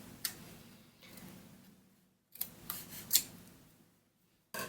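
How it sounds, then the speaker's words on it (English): Scissors snip yarn close to a knot on a chunky loom-knit blanket, a few sharp close clicks separated by quiet gaps. "you can cut as close to the knot as you want"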